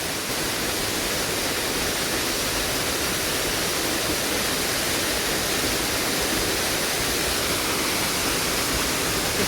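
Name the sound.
Mamala Falls waterfall, strong water current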